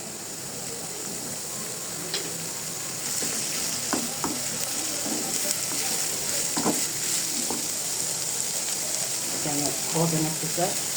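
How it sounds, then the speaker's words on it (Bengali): Onions frying in oil in a wok for Bengali pakora-style fritters, a steady soft sizzle with light stirring scrapes and occasional small pops, fairly close and continuous, with no voices. "একটু কড়াইতে আমি তৈল দিয়ে দিলাম"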